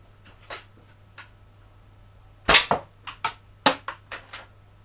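Air rifle pellets strike plate greaves from just outside a garage, sharp metallic cracks and pings arriving one by one, with a quick cluster of hits in the second half over a low hum.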